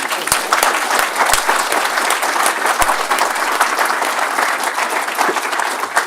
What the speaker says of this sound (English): I'm sure all of us would like to have another round of applause